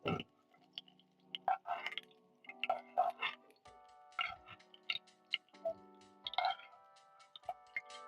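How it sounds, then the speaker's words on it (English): A spoon scoops cooked okra out of a pan in a home kitchen, making soft wet clinks, scrapes and squishy dabs in an irregular sequence, close and fairly quiet. "I'm going to be using a spoon to scoop out the okra"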